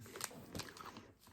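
Close, quiet crunching and chewing of a chocolate-coated keto protein ball snack, a few crisp bites in quick succession with no talk.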